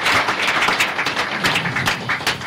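An audience claps together at a Nigerian call-in radio programme's helpdesk session, a dense, steady wash of many hands filling the room close and loud with no talk over it.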